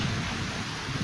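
Steady, dense rain falls without a break, a loud hiss close by with no voices over it.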